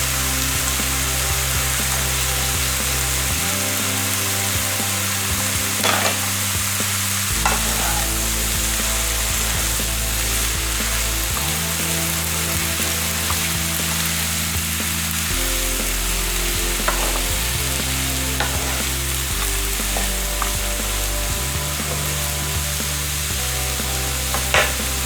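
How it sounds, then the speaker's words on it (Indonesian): Green vegetables stir-fried in a wok with chicken, shrimp, fish balls and onion for fried noodles: a steady sizzle with repeated stirring scrapes over a low, shifting tonal drone, no talking. "tambahkan sayur hijau ke dalam wajan penggorengan yang telah berisi daging ayam, udang, bakso ikan, dan bawang untuk dimasak menjadi satu"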